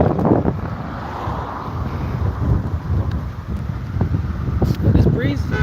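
Wind gusting outdoors in Jamaica, a steady rushing roar buffeting the microphone with someone talking over it at times.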